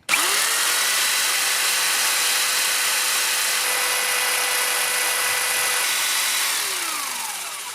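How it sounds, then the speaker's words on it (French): A jigsaw mounted in a Parkside PSST A1 jigsaw table starts abruptly and runs at a steady high-pitched whine, loud and close with no talk, then winds down near the end. "il n'y a plus qu'à démarrer la scie sauteuse"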